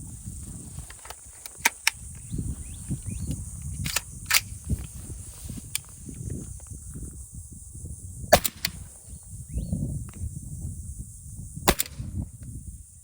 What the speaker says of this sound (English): Next, same JAKL using subsonic ammo. I'm going to go ahead and leave the suppressor on for this.